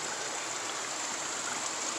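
Steady, loud rushing of water flowing on a rural ranch property, a continuous broadband wash with no pauses and no voices over it.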